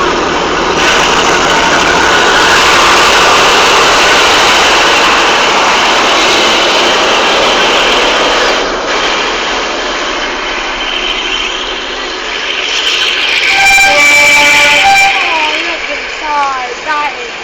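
A train engine runs with a loud, steady rumbling roar, swelling and easing slightly, while voices chatter nearby and a brief tonal sound rises near the end.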